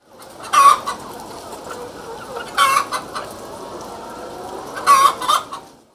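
Chickens on a poultry farm where birds are fed, eggs collected and pens cleaned, clucking in three loud bursts over a steady background of flock chatter and barn noise, with no talking.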